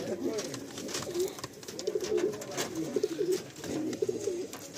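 Madrasi pigeons coo repeatedly in a loft, their soft rolling calls rising in steady bursts over a busy background of fluttering and scratching, close and moderately loud.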